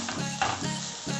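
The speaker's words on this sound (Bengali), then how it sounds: "গাজরটাকে আমি একটু ভালো করে কিন্তু নাড়িয়ে চাড়িয়ে ঘিটার সাথে ভালো করে কিন্তু এটাকে ভাজবো" Grated carrots fry in ghee for a sweet halwa, giving a short burst of dense sizzling with a quick stirring scrape in the middle.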